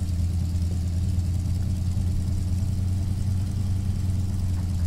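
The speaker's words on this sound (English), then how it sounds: "I love the sound of that engine." A steady, droning Beechcraft D17 Staggerwing propeller engine in X-Plane 10 hums continuously at a constant pitch, loud and close, with no voices over it.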